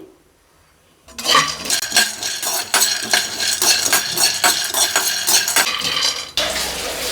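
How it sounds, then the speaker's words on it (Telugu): Peanuts are dry-roasted in a pan, stirred with a utensil that scrapes and clinks against the metal in a busy, uneven rattle, loud and close after a quiet opening, with no talk. "ఒక కప్పు పల్లీలు తీసుకోండి ఇవి దోరగా వేయించుకోవాలి"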